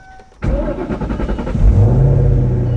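Car engine cranking and catching with a newly installed performance exhaust, a sudden starter burst that settles into a loud, throaty idle with a brief rise in revs.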